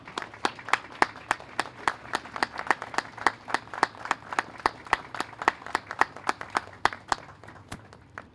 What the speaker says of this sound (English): just stand up and give these guys a round of applause